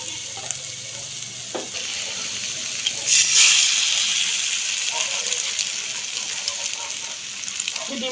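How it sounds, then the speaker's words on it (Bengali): An egg breaks into a pan of hot cooking filling for stuffed bread, and a steady, close frying sizzle runs throughout, swelling briefly partway through while a person talks over it. "এই পর্যায়ে এখানে আমি একটা ডিম কেটে দিয়ে দিচ্ছি।"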